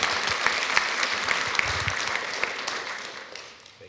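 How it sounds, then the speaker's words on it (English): An audience at a talk in Ann Arbor claps to welcome a guest speaker, a close, lively burst of many hands with a few sharper claps standing out, tapering off over a few seconds. "Let's give him a round of applause for coming out to Ann Arbor."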